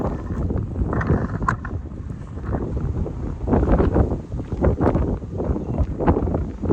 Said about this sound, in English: This wind is awful.